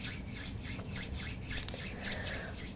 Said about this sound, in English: Bring your palms together, rubbing them together, generating that heat.